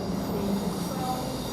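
A train to Yeovil Junction pulls out of Basingstoke railway station, a steady low rumble with faint wheel squeal, moderately distant and continuous, no talking.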